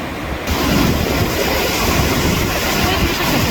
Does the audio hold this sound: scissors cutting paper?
no